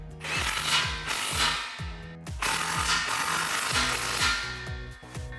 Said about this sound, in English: now you can grab your 15 socket and tighten these guys down